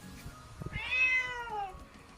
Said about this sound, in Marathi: बघा आपली मांजर